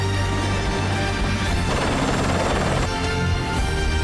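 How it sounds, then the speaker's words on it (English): Loud, continuous rotor noise from a life flight medical rescue helicopter thumps steadily at close range with a dense whirring roar and no voices. "A life flight helicopter rushed Justin to the Intermountain Medical Center in Salt Lake City."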